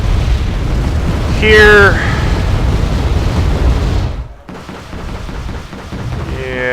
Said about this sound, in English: Massive rocket barrage again